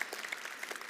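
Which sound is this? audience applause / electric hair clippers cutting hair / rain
audience applause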